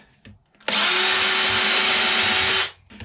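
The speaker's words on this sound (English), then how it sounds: "I'm going to use this smaller unibit, and I'm going to go around and just make a bunch of holes in the side." A power drill fitted with a step bit runs in one loud, close two-second burst while boring a hole in the plastic side of a homemade compost bin, starting abruptly and winding down, with no talking.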